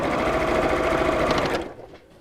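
Sewing machine stitching a cosmetic bag seam, a fast steady mechanical chatter running loud and close for about a second and a half before cutting off into quiet.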